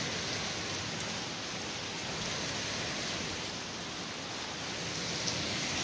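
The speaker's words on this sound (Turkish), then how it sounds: "Yağmurun sesini duyuyorsunuz gördüğünüz gibi." Steady rain pours down at night around 4 a.m. in Edirne in a dense, even hiss, constant and moderately quiet, with no voices or other sounds.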